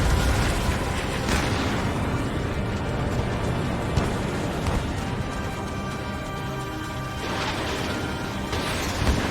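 Explosions and missile fire from the air combat video game Ace Combat 7, flying a Gripen E, make a dense, continuous roar of blasts and booms with sharper bursts near the start and end.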